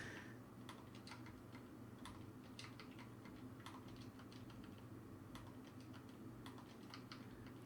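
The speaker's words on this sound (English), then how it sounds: "I'm getting quite proficient, I think, at typing your name out because I've done it so many times" Steady typing on a computer keyboard during a live-streamed building session, with quick irregular clusters of clicks and keystrokes running close and continuous throughout, no talking.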